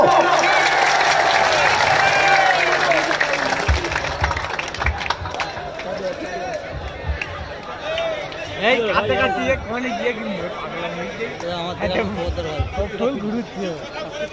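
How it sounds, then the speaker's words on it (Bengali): A crowd claps and cheers at a political campaign rally in Jaynagar. The sustained applause is mixed with loud chatter and a voice over a loudspeaker, then settles into a lively hubbub. "জোর করে একটা করতালি ভাইজানের জন্য।"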